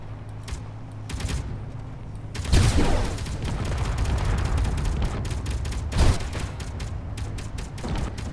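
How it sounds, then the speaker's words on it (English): An automated defense turret in Space Engineers fires repeated rapid bursts of gunfire, with heavier booms around the third and sixth seconds over a constant mechanical background. "it's an automated firing defense thing"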